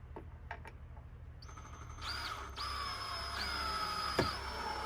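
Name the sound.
screwing screws in to mount a security camera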